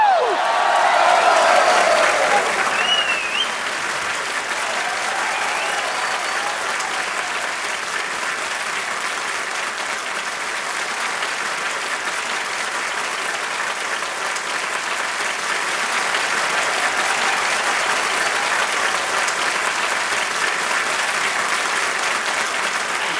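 A TV show studio audience applauds to welcome a guest, a loud dense roll of clapping that peaks at the start and then carries on steadily at a slightly lower level, with some crowd noise mixed in.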